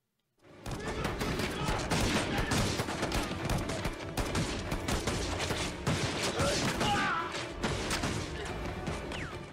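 Dense, continuous gunfire and crashing from a battle scene in the film The Last Samurai, loud volleys and bursts overlapping for nearly ten seconds with no pauses, with faint voices mixed in.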